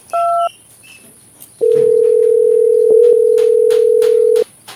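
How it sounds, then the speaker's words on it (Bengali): A brief electronic tone, then a long steady ringback tone plays alone for about three seconds and stops, with no answer following. "ফোনটা ধরলো না"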